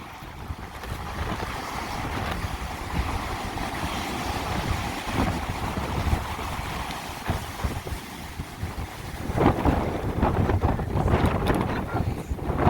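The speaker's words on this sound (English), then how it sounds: "the wind is gusting right now" Strong gusting wind from Hurricane Sally roars and buffets a beach on Dauphin Island, with heavy crashing surf beneath, a dense continuous rumble that swells louder toward the end.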